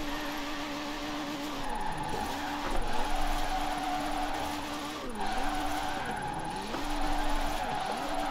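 A car drifts in Forza Horizon 4, its engine droning steadily with rising and falling revs while tires squeal and skid through repeated slides, loud and continuous throughout.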